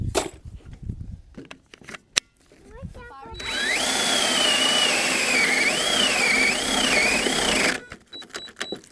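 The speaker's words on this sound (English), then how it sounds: "I got the holes drilled now on both sides all the way through" A battery drill bores through the wooden frame of a mobile chicken shelter, a loud whining run of about four seconds with its pitch wavering, framed by clunks, handling knocks and speech.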